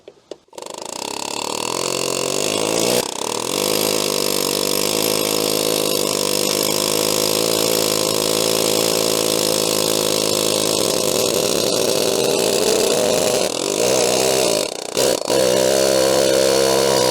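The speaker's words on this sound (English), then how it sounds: "So let's use the air hammer in there now." A loud pneumatic air hammer rattles continuously at close range while removing a wheel from a shaft, its rapid pounding pausing briefly a couple of times before resuming.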